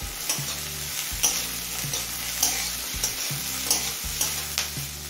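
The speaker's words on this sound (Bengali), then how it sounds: "এবার পেঁয়াজটা হালকা লাল হয়ে আসা পর্যন্ত ভেজে নেব।" Chopped onion and green chillies fry in a pan with a steady sizzle, broken by regular scraping stirs roughly once a second, close and fairly loud, with no voices.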